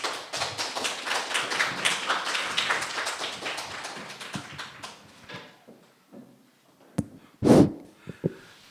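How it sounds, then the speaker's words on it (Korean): Audience applause in a lecture hall welcoming a human rights speaker at a special lecture, a dense wash of clapping for about five seconds that thins into scattered claps, then a few isolated thumps and taps near the end. "선생님께 박수로 초대를 하겠습니다"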